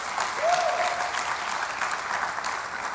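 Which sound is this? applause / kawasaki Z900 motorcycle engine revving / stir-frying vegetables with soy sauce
applause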